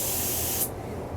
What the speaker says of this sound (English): That will just spray nitrogen all the way around.